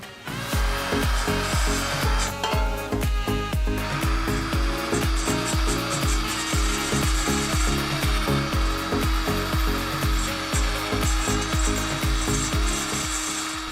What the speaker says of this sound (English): Just get that wire wheel right there, polish this bad boy up.